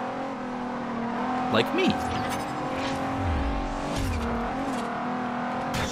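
Nissan GT-R in Forza Horizon, engine holding a high steady drone with brief rev changes and tire noise as someone speaks over it.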